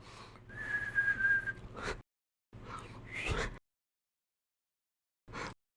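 A man whistles through his lips to imitate someone else's whistling, in two sustained passes with pauses between, then a short final burst.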